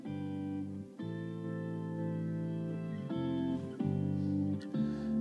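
A drum practice play-along track with no metronome click: sustained, layered music with effects-laden chords that change roughly every second or two, playing steadily with no voices.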